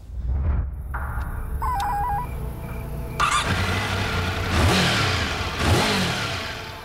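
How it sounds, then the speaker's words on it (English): A customized Honda Interceptor motorcycle engine starts up and idles with a rough, steady drone, then gives two rising revs. Electronic tones sound briefly over the engine at the start. "Michael fired up his customized red, white, and blue Honda Interceptor and took off from home"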